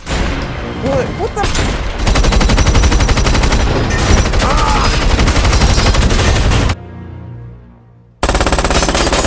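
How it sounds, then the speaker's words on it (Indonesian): Loud bursts of rapid automatic gunfire from a submachine gun, continuous for several seconds, with a brief drop to near silence before firing resumes. "Itu pun langsung diberondong tembakan oleh balet dengan senjata UMP yang ia miliki"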